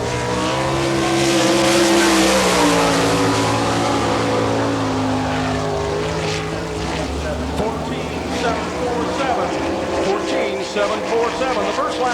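A sprint car at an All Star Circuit of Champions timed lap at Barberville, Florida, its engine roaring loud and sustained as it passes, with a public-address voice talking over it.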